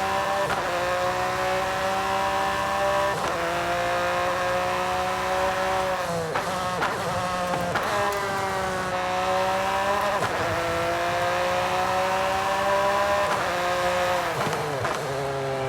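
In Forza Horizon 5, a Ford GT races through corners with a loud, sustained engine roar that climbs in pitch, drops sharply at repeated gear changes and climbs again.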